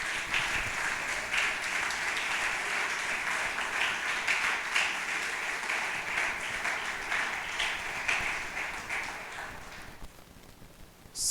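Audience applause fills a hall at a church sermon or talk, steady dense clapping from a crowd held for about ten seconds before thinning out near the end.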